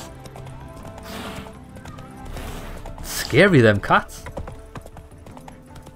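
Hooves of the horse Roach clip-clopping in a steady galloping rhythm in the video game The Witcher 3, heard under someone talking.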